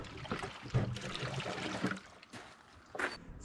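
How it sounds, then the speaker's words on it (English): Bilge cleaner liquid sloshing inside a jet ski hull as it is rocked, with irregular wet swishes, splashes and trickles rising and falling in uneven bursts, close by. "This stuff is just supposed to slosh around and scrub the boat."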